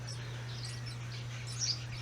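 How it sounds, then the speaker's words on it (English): Baby birds chirp faintly from the corners of a porch in short, high, scattered calls, over a steady low hum from a nearby fan. "I got baby birds in each corner up here and they're chirping"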